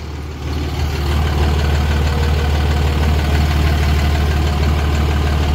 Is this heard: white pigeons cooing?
no